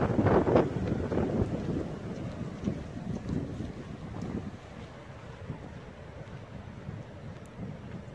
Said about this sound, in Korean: 오늘은 바람이 많이 붑니다.